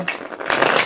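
A quick, close riffle of tarot cards being shuffled, crisp papery rattling that builds slightly toward the end, with no voices.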